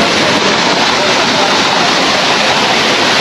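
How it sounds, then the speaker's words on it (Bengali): Madhabkunda waterfall in the rainy season, a loud, steady roar of heavy falling water filling the whole clip with dense, unbroken rushing noise and no voices. "মাধবকুণ্ড ঝর্ণার প্রকৃত অবস্থা। এখন বর্ষাকাল, যথেষ্ট পানি আছে ঝর্ণায়।"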